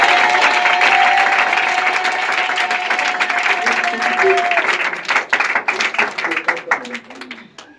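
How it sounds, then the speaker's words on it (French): A church congregation bursts into loud, sustained applause and cheering at a worship service, dense clapping filling the space before thinning into scattered claps toward the end, with voices calling out amid it. "Est-ce qu'on peut acclamer Jésus?"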